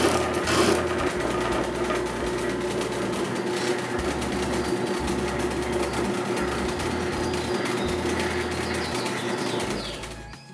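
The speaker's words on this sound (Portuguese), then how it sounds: "essa lixadeira aqui, meu pai que me deu, ela foi feita com motor de tanquinho de lavar" A homemade electric sander powered by a washing machine motor runs against wood, a loud steady whirring buzz with gritty abrasive hiss throughout, winding down at the end.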